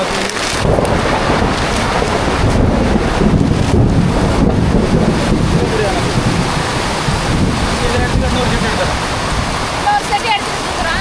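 Heavy rain driven by strong wind pours down outdoors in a long, dense, roaring wash with gusty buffeting against the microphone, loud and continuous from start to finish.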